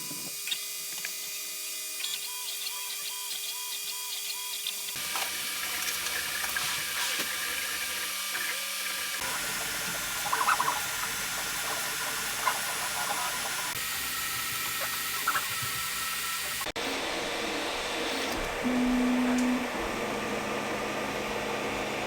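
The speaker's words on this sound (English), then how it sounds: "now I'm going to reprint the benchy because I want to give it a truer representation about the capabilities of this printer" A Longer LK5 Pro 3D printer prints a Benchy boat model, giving off a steady, faint whir of stepper motors with shifting tones and occasional brief chirps, heard alone.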